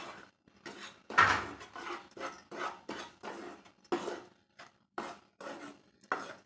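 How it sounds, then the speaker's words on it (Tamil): Raw rice flour is dry-roasted in a pan, giving quiet, irregular bursts of spatula scraping and rasping against the metal, about a dozen strokes spaced apart. "ஈரப்பதம் இல்லாமல் நல்லா வரன்னு வறுத்து எடுத்துக்கலாம்"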